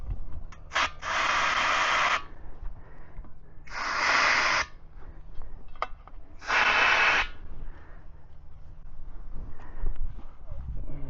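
Brake cleaner sprays from an aerosol can in three long, loud hissing bursts of one to two seconds each, separated by short pauses and quiet clicks.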